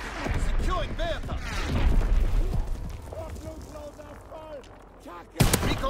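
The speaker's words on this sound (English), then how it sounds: "Enemy mortar fire incoming." Incoming mortar fire and gunfire boom in a Call of Duty WWII battle, with heavy thuds and crackling shots under voices talking, ending in a sharp loud blast.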